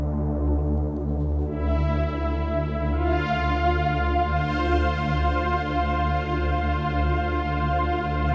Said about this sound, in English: Let's add reverb